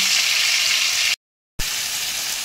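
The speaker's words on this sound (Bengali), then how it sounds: "এবার আমি মাছগুলো দিয়ে দিচ্ছি, তেলের মধ্যে ভেজে তুলে নেব।" Prawns fry in mustard oil with a loud, dense, steady sizzle, broken by a brief moment of total silence before the hiss resumes; no talking.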